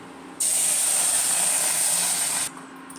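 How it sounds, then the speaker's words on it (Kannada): A bowl of milk poured into a hot pan of makhana fried in ghee sets off a loud, steady sizzling hiss that starts abruptly, holds for about two seconds and cuts off sharply. "ಈಗ ಅದಕ್ಕೇ 1 ಬೌಲ್ನಷ್ಟು ಹಾಲು ಹಾಕ್ತಾಯಿದ್ದೀನಿ."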